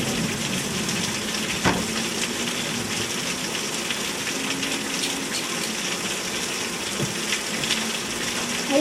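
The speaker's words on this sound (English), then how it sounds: "Only up here is where you can really tell it's still raining." Rain falls during a stormy night as a continuous broadband hiss of drops on surfaces, steady and fairly loud throughout, with a couple of faint brief knocks.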